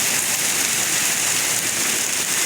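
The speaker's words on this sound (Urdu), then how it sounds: "بہت تیز ژالہ باری ہے، ہر طرف سفیدی چھا چکی ہے۔" A heavy hailstorm with driving rain in Talagang, Pakistan, a loud, dense, unbroken roar of pelting ice and water drumming on surfaces, with no voices.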